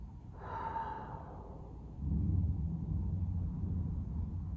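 A deep, slow breath during a resting pose in a yoga session, heard close and soft as a long inhale followed by a steady, audible exhale, alone with no talking.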